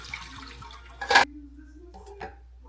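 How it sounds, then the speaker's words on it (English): Water from a pot of hard-boiled eggs is poured out on an induction cooktop. A single brief splash sounds near, with light clatter before and after. "Empty out the water. Just get everything out."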